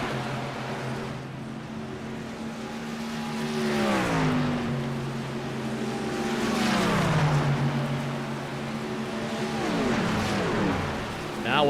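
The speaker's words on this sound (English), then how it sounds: "You hear both trucks cut the throttle on entry, push the clutch in, let the truck just coast" Racing trucks at Atlanta lift off the throttle on corner entry and coast, their engine notes dropping and sweeping down in pitch in repeated passes, a steady loud drone rising and falling.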